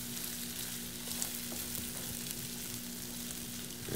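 Corned beef hash with mustard being mixed in a frying pan, sizzling steadily with faint scraping from stirring throughout, no talking.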